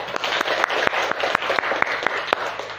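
A classroom of students applauds after a group presentation, a brief burst of scattered, sharp claps at moderate volume from a small group.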